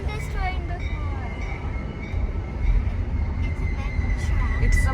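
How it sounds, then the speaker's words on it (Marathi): A Chicago metro train rumbles past toward downtown, a continuous loud rail roar with rising intensity, while voices talk over it. "It's a metro train."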